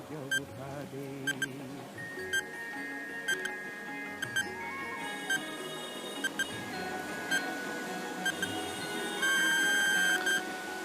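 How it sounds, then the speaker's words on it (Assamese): A quiz countdown timer beeps in short, evenly spaced electronic pulses over background music and sustained tones, growing a little louder near the end. "এয়া আমি টাইমাৰ আৰম্ভ কৰিছোঁ।"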